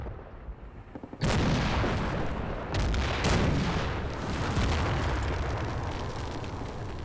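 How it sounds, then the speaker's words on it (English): Anti-aircraft gun fire hitting a half-track in the Combat Mission: Red Thunder war game, heard as a loud sudden blast that grows into sustained roaring explosions and rumble, with a second heavy burst midway. "I think this anti-aircraft gun is gonna make short work of this half-track."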